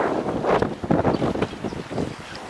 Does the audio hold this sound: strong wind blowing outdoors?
yes